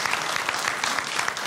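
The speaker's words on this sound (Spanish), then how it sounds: "Te vas a llevar este aplauso para que lo cantes muy bien" A studio audience on a Canarian folk music TV program claps. The applause is dense and steady, loud and close, with no voices over it.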